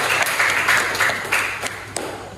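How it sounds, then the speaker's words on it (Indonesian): A classroom group applauds a student team, with steady, moderately loud clapping from many hands that goes on for a couple of seconds. "kita beri aplaus untuk kelompok 1"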